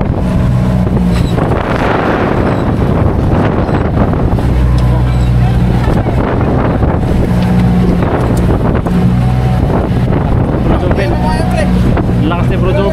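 A squall's wind buffets a small boat at sea off Obando, Bulacan, a loud, constant roar of gusts across the microphone mixed with engine rumble and splashing, with people talking and shouting throughout.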